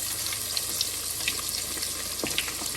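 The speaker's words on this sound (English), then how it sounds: "Now I do sear my oxtails" Oxtails searing in hot oil make a constant watery sizzle dotted with small crackles and pops, moderately loud and steady with no voices.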